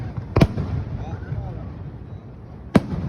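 Fireworks exploding at a 2025 show in Japan, two sharp, booming bursts about two seconds apart, fairly close and loud, with faint crackle and murmuring crowd voices between them.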